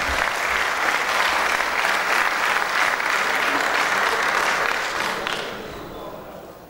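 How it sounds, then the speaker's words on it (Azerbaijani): A village anniversary audience claps warmly to greet an arriving guest, loud, continuous applause that holds steady and then tapers off over the final seconds. "Xoş gəlib Həmid müəllim, alqışlarla qarşılayaq."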